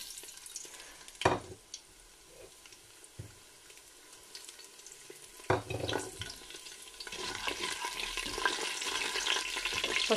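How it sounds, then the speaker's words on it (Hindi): Whole spices dropped into hot oil in a pot on a stove, giving sudden sizzling bursts around one and five seconds, then a steady frying crackle that grows louder and denser toward the end, with no talking. "हम खड़े मसाले इसमें डालेंगे।"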